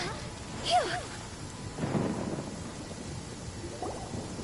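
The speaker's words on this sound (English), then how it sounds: "Oh, it's still raining over here." Video game rain patters steadily while a low rumble of thunder rolls through, with a sharper crack early on, an outdoor storm ambience with no talking.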